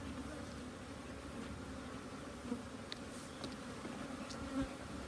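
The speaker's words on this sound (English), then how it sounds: "So I think we've got some bees. Yes, we do have bees." Honeybees buzz in a steady, continuous drone throughout a beehive inspection, with a few brief louder passes as individual bees fly near.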